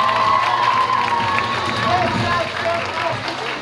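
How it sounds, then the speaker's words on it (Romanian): Audience applauding and cheering at a high school ball in a hall, a dense continuous roar of clapping and shouting voices filling the room at close range. "Aplauze pentru Vlad!"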